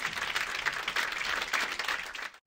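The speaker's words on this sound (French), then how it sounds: "On peut les applaudir tous les deux" Warm audience applause at an evening honor ceremony at the Napoleon festival, a dense, even clatter of many hands that cuts off abruptly at the end.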